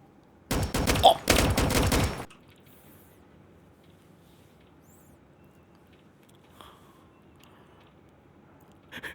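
A rapid burst of gunfire in the Roblox game A Dusty Trip, a dense loud volley lasting under two seconds, followed by quiet background with a few faint clicks.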